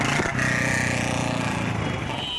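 Motorcycle engine during street bike stunts in a city, a loud steady mid-pitched engine drone with a brief rev near the start, close and continuous, fading slightly toward the end.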